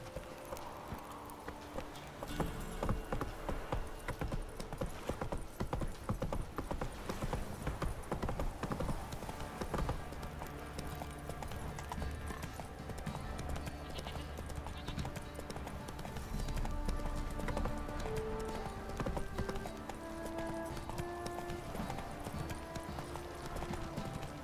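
Roach, the horse in The Witcher 3, galloping at length, a continuous rhythmic clip-clop of hooves with music and a voice talking at times.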